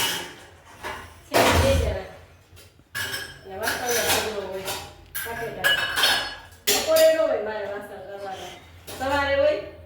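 Household dishes, pots and steel utensils clinking and clattering as they are handled in a home, with sharp metallic knocks and rattles coming in bursts, close by, while someone talks over them.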